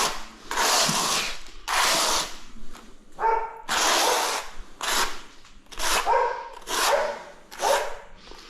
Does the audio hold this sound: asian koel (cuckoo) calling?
no